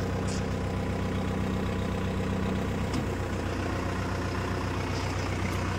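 A tractor engine runs steadily at idle with a continuous low rumble, close by and alone.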